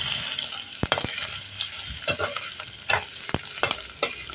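Onion and ginger frying in oil in a pan for chicken tinola. A steady hiss of sizzling runs throughout, with close stirring scrapes and a few light clinks of a utensil against the pan.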